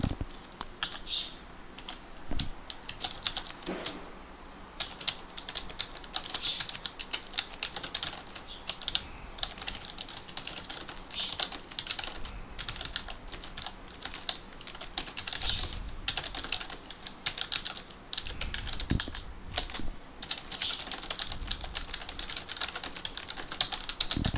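Continuous clicking of a computer keyboard as someone types a message, a brisk irregular patter of keystrokes at close range with short pauses, no voices.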